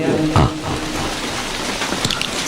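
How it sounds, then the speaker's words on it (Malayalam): Rain falling steadily on an outdoor gathering, a dense, constant patter with a few louder knocks and brief voices in the background. "മഴ നനയാതിരിക്കുവോ?"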